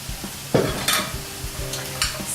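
Large mushroom pieces for fajitas sizzle steadily in a hot pan while a utensil stirs and scrapes them. Near, continuous frying hiss with occasional sharper clinks and scrapes, no talking.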